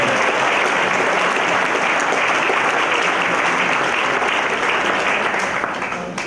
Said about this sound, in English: I think we should give a round of applause to the FBI agents and the NYPD